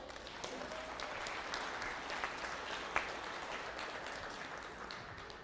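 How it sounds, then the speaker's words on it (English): Steady, moderately quiet applause from a conference keynote audience after a personal story, a dense wash of many hands clapping throughout with no voices over it. "Can we give a round of applause for that story?"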